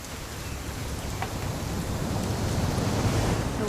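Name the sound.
rain in video game What Remains of Edith Finch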